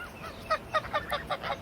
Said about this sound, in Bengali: কিছু হাঁস দেখতে পাচ্ছেন